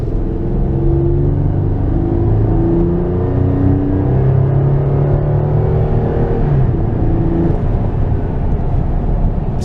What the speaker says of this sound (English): How about a little acceleration?